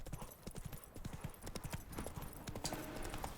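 A horse gallops in The Witcher 3 video game, its hoofbeats a rapid, steady clip-clop rhythm close up throughout, with faint game ambience and a brief whinny-like sound behind.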